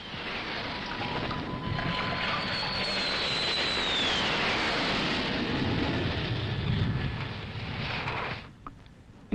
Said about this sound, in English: the roar of planes overhead